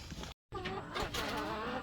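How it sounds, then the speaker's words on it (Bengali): Backyard hens clucking nearby, a short run of soft, rhythmic clucks after a brief gap of silence, faint and without talk. "এই যে আমার মুরগি আরও কিছু আছে ওই পাশে"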